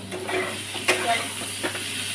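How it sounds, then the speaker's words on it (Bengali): Onions being stirred in a frying pan with a spatula over a steady sizzle, with a few soft scrapes and one brighter clink against the pan, close and fairly even throughout. "পেঁয়াজটা দিয়ে হালকা নাড়াচাড়া করে নিয়েছি"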